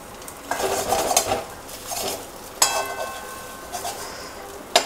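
Small pieces broken up and stir-fried in a pan for mixed fried rice, with loud, close spatula scraping and clattering over a steady sizzle in repeated bursts.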